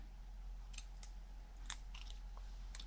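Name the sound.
cutting paper corners with scissors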